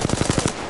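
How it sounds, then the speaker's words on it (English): Video game gunfire rattles off in a quick automatic burst of about six evenly spaced shots, loud and close, lasting under half a second. "I'm shooting here."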